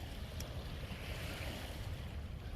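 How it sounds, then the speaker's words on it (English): Steady rush of water waves outdoors during a travel layover, a constant broadband wash with some wind buffeting the microphone, no talking. "Can you hear the water?"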